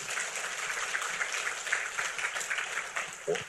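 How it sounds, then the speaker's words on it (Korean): A church congregation bursts into steady, fairly loud applause during a worship service, with the sound holding even and a voice cutting in just at the end. "우리 하나님께 박수 영광 돌립니다"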